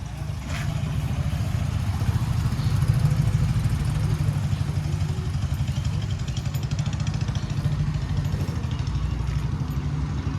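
A motorcycle engine runs with a low, steady drone, continuous and fairly loud throughout, with no talk over it.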